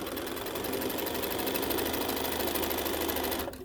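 Sewing machine stitching a foundation paper quilt block, a continuous fast even mechanical whir close up that cuts off near the end, with no talk.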